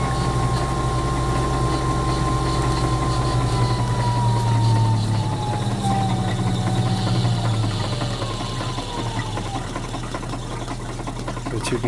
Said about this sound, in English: See that motor's trying to turn that, and I can actually increase it.